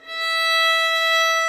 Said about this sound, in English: Let's play open E first